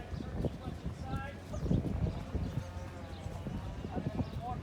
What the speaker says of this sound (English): Once my horse is moving forward quite well, I'm trying to turn as much inside.